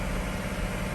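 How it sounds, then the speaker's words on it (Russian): A warm BMW M62B35 V8 idles steadily, a dense, even engine rumble with no variation in rhythm, heard close and continuous throughout. "Мотор уже работает минут 20."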